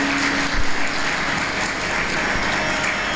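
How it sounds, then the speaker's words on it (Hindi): A seated audience at a spiritual discourse in Chhattisgarh claps together, dense and even hand-clapping filling the room, with a couple of louder thumps near the start. "हाँ ताली बजा लीजिए, सबसे पहला काम करिए, ताली बजाइए।"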